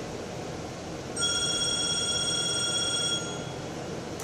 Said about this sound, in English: Fucking phone ringing.